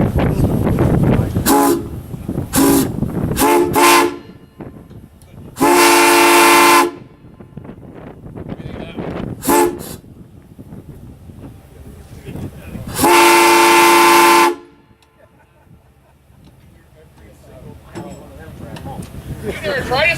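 Horn blasts from the LNE 611 charter train near Allentown and Auburn: several short toots, then a long blast, then another short toot and a second long blast, loud and close, with rail rumble and people talking in between.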